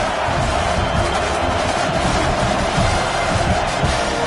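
Packed American football stadium crowd roaring at fever pitch on a third-down play in the red zone, a dense, loud, continuous wall of cheering with no breaks.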